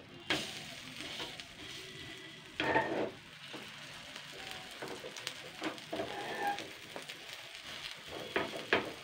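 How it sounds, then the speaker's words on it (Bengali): A flour and sweet potato breakfast snack fries in a pan with a steady soft sizzle, broken by a few scraping clatters as a spatula flips it and presses it down. No one speaks. "এবার আমি এটাকে খুন্তি দিয়ে উল্টিয়ে দেবো।"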